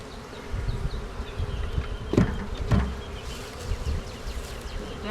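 Honey bees swarming around an opened beehive during a split, a dense, continuous close buzzing with a few individual bees zipping past the microphone.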